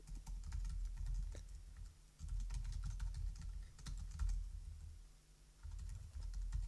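Rapid typing of HTML code on a computer keyboard, close and clear, with irregular clusters of key clicks and short pauses between bursts, steady throughout.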